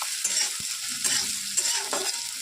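Chopped onions fry in white cooking oil in a pan while being stirred, a steady close sizzle with scraping strokes of the spoon breaking through every half second or so.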